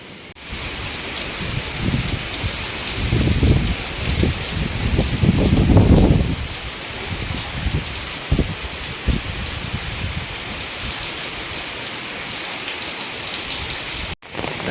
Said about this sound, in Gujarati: અત્યારે જોરદાર વરસાદ ચાલુ થઈ ગયો છે